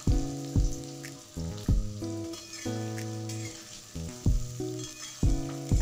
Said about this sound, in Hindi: तो प्याज को चलाते हुए हम हल्का ब्राउन करेंगे।